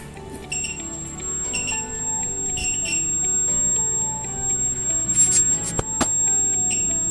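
A buzzer alarm sounds from an opened energy meter box, a continuous high electronic tone holding steady through the room noise, with a few clicks and handling knocks near the end and no talk.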